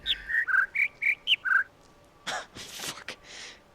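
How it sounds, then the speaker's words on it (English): Two birdlike whistles from a Minecraft sound puzzle in the Better Than Wolves mod interleave as a quick run of six bright, clear chirps. Softer breathy noise follows. "Oh, now they're playing two birds at once."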